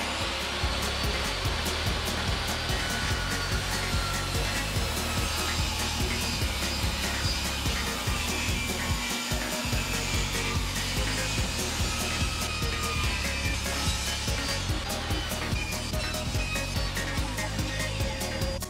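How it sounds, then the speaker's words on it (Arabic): A power tool, likely a circular or table saw, cuts a wooden board piece for a DIY shelf with a drawer, running as a loud, steady whine with a brief dip near the middle and no talk. "هنقص القطعة دي 4 سنتي و 4 سنتي."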